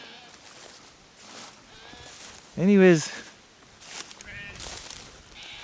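A sheep on a farm lets out one loud wavering bleat close by, lasting under a second, while someone talks before and after it and footsteps move around.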